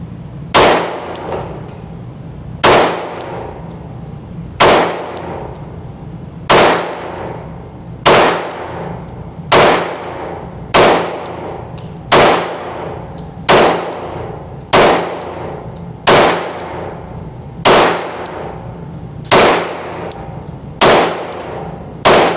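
A Glock 45 pistol fires Federal HST self-defense hollow-point ammunition at an outdoor range: about fourteen loud, sharp, ringing reports, evenly spaced roughly a second and a half apart, with nothing else between them.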